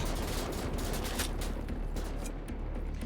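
Rapid, overlapping shotgun blasts from the video game Wolfenstein: The New Order, loud and dense, a continuous barrage of repeated booming reports lasting the whole stretch with no clear pauses.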